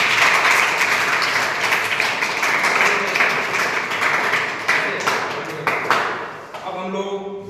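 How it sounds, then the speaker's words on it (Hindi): Studio audience at a children's quiz show gives a contestant a long burst of dense, loud applause that fades near the end as scattered claps trail off. "इनके लिए जोरदार ताली बजाएं।"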